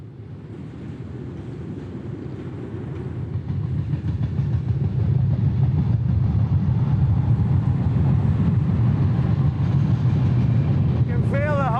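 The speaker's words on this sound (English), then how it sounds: "You can feel the whole bridge vibrating under the weight of the train." A train rumbling across a bridge deck, a heavy low roar building over the first seconds and then holding steady and loud, with a wind-like hiss over it and a brief high squeal near the end.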